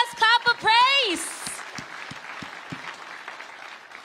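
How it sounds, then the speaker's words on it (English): A church congregation gives God a clap of praise at a worship service: a few seconds of steady applause from many hands, following a brief loud vocal shout, then fading under the continuing crowd clapping. "Shall we give God the best clap of praise?"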